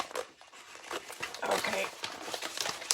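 A Prima transfer sheet being cut with rustling, crinkling crackles of the sheet as it is handled close by, while a person talks over it.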